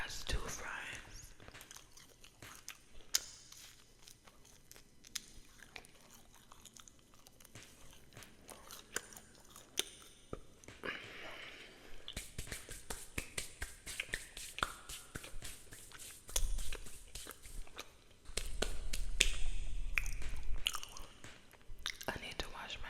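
Five Guys fries are bitten and chewed close to the microphone, giving soft crunches and wet mouth sounds at a quiet level, with faint whispering and a low rumble near the end.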